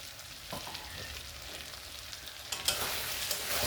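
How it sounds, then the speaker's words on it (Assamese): Mutton frying in a pan with cashew paste, a steady close sizzle with occasional stirring scrapes that grow louder near the end. "আৰু এতিয়া বাদামখিনিৰ সৈতে মই মাংসখিনি আৰু 1 মিনিট টাইম ফ্ৰাই কৰি ল'ম।"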